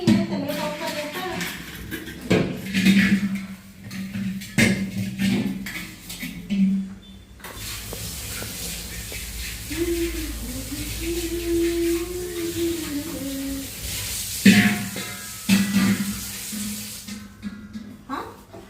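Metal pots clatter and scrape as they are scrubbed by hand beside running tap water, with repeated clanks, a steady wash of water in the middle and occasional talk.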